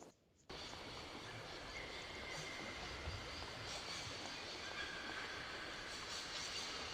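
Train in the video game Syberia, a steady loud rumble of rolling rail cars with faint squealing wheels that starts abruptly after a brief quiet moment and continues evenly throughout, without talk.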